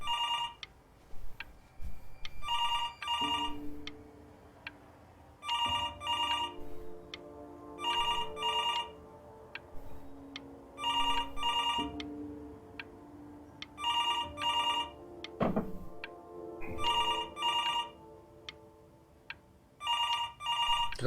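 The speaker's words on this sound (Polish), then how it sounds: "telefon dzwoni" In the video game Before Your Eyes, a phone keeps ringing in regular double bursts of bright trilling bells, repeating steadily over a low musical backdrop for the whole stretch.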